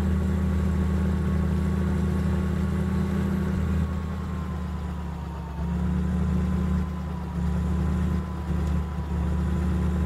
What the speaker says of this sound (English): It's a large baler and a large tractor.